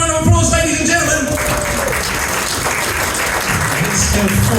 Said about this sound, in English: Give her a big round of applause, ladies and gentlemen